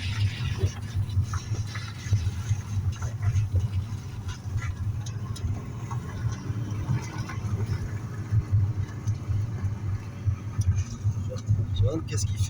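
A car's engine rumbles at a low, steady drone at the Paul Ricard circuit, heard at a moderate distance with people talking over it throughout.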